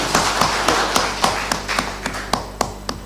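Audience applause at a Sacco annual general meeting, heard as a run of sharp, evenly spaced claps or taps over a steady low hum, loud and close, with no talking.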